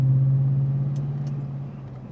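The engine of a Lexus GX460 with a Pedal Commander installed hums low and steady as the gas pedal is pressed, a smooth rumble that eases off and fades slightly toward the end.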